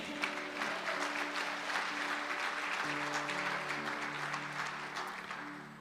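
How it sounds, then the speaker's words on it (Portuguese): A church congregation claps during a worship service, a steady wash of applause beneath sustained organ or keyboard tones, moderately quiet and continuous. "Aplauda, Senhor"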